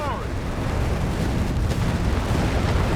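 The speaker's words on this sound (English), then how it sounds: "We got artillery called in." Heavy artillery barrages roar in a Company of Heroes 3 battle, a dense continuous rumble of overlapping blasts with a voice talking over the din.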